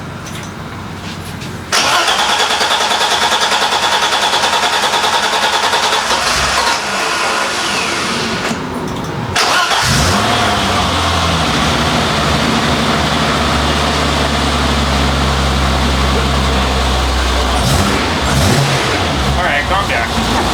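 A BMW M20 2.7-litre inline-six engine cranks and catches, then settles into a steady, rumbling idle with occasional revs; voices speak briefly over it.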